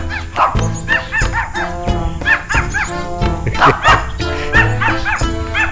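Several dogs yip and bark in rapid, overlapping bursts at close range, with whimpering mixed in, loud and continuous throughout, in a residential setting in Thailand.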